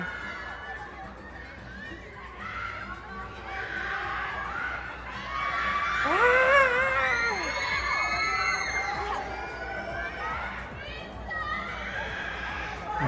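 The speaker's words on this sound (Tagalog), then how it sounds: "Grabe naman yung sigaw ngayon" Concert crowd at a Sulong PPOP show screaming and cheering, a dense wash of high shrieks rising to a loud peak midway, with nearby fans talking over it.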